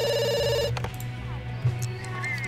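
Telephone bell rings in The Sims 2, a bright repeating electronic ring that stops partway through, leaving low game music and background noise.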